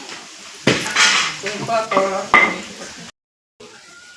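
Cumin, mustard seeds and curry leaves sizzle and crackle in a hot pan in a home kitchen, with stirring clatter of a spoon against the pan, then a brief silence before quieter sizzling resumes.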